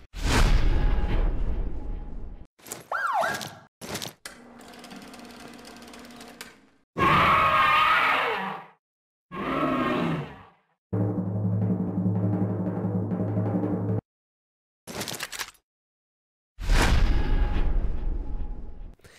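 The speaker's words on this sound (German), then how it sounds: "Also wir hören hier Polizeisirenen, wir hören hier Monsterstimmen, Explosionen, Sirenen und vieles mehr." Loud Grand Theft Auto V Online sound effects in separate bursts: heavy booming explosions, a police siren wail, growling monster sounds, and sustained tonal alarms, with silent gaps between.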